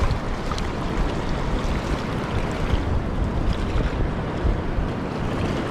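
Steady rushing surf and wind noise fill the whole stretch, a continuous roar of waves breaking on a beach close by with constant microphone buffeting.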